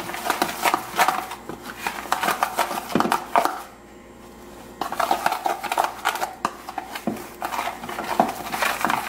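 Whisking banana bread batter in a bowl: quick, rhythmic scraping and clinking of a whisk against the bowl, close and steady, pausing briefly midway before resuming.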